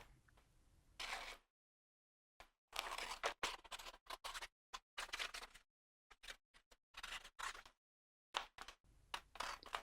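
Scissors snipping through a paper sewing pattern during flat pattern drafting, heard as a series of short, close, crisp cuts in irregular bursts with brief pauses between them and no talking.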